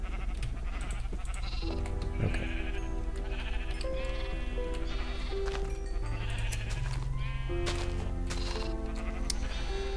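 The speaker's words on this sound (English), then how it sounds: "let's go ahead and just get a few more sheep" Sheep bleat repeatedly in Minecraft, with several close, nasal bleats scattered across the stretch over steady sustained tones, and one short spoken word.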